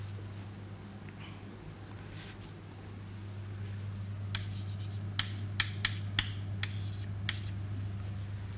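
Chalk or a marker writes on a board in a physics lecture, giving a series of sharp, close taps and short scratches that grow more frequent toward the end, over a steady low electrical hum.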